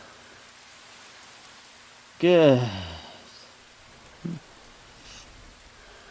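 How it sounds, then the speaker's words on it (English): Steady rain falling in the video game Epiphany, a soft continuous hiss in the background, interrupted by a spoken word and a brief thud. "Alright, now it's raining."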